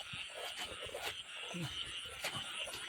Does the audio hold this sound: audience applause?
no